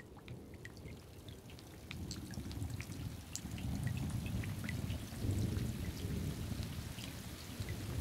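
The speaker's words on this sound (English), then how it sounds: "This happens every time a raindrop hits a puddle." Steady rain falls and splashes onto a puddle, a dense low rumbling patter with scattered sharp drip ticks, growing slightly louder midway and continuing without voices.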